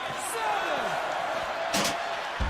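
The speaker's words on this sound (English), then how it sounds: "as he slammed gut first into those steel steps" A wrestler slams gut first into steel ring steps at a wrestling event, a single heavy thud late in the clip over steady crowd noise and an excited commentator's voice.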